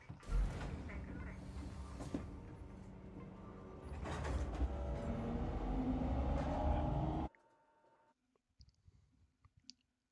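A tram moves through a station in the video game Alien: Isolation, a steady rumbling, creaking mechanical run that ends abruptly, followed by a few faint scattered clicks and near silence.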